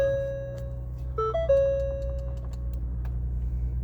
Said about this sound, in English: we're going to turn the car on